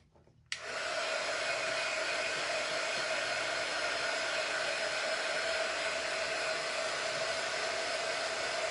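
A hair dryer drying hair switches on abruptly after a brief quiet moment, then blows in a loud, steady, unbroken rush of air close by, with no talking.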